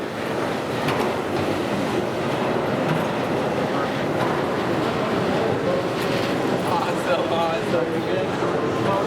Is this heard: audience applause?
no